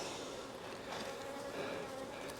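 Honeybees in a small nuc hive being inspected and smoked, a steady dense buzzing hum filling the air at close range without pause.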